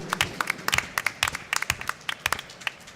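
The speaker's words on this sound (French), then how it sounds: "Je crois qu'on peut applaudir Céline Renaud" A small audience at a round-table session claps for a few seconds, scattered individual hand claps rather than a dense roar, fairly quiet and close.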